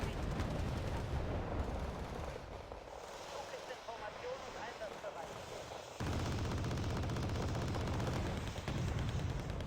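Battlefield gunfire in the wargame Wargame: Red Dragon as Panzer Grenadiers clear a forest, a dense, steady crackle of distant small-arms and machine-gun bursts, loud and continuous with a brief lull midway.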